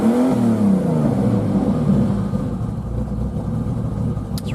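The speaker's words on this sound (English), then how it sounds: "But this one will rev up and drive all fine." A 1990 Jeep Cherokee Laredo XJ engine revs up close by, pitch rising and falling as it accelerates, then settling back toward an idle rumble.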